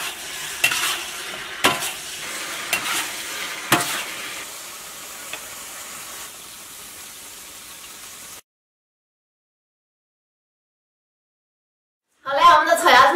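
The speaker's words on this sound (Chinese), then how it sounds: "少倒点酱油，翻炒一下就可以出锅了" Lamb head stir-fries in a wok with ginger powder, Sichuan pepper powder, thirteen-spice, ground pepper, chicken bouillon and a little soy sauce, giving a hissing sizzle with sharp spatula clanks, then abrupt silence before a brief voice at the end.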